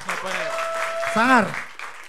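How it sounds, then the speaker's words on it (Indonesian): An audience applauds a stand-up comic at a comedy competition show, the clapping steady and fairly loud beneath a voice that rises into a drawn-out, wavering shout or cheer near the middle. "Tepuk tangan untuk Renaldi"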